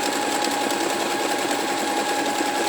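A sewing machine runs steadily at speed, stitching a reinforced double seam on a garment in one continuous, even mechanical whir with no talking.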